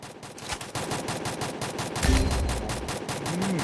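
Rapid automatic gunfire sounds in the Free Fire mobile battle royale game, with evenly spaced shots repeating throughout and a brief low game sound effect mixed in partway.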